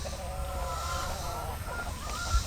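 Hens in a backyard barnyard flock that includes a rooster and an olive egger, giving a steady run of close, overlapping clucks and murmuring calls against a constant low background rumble.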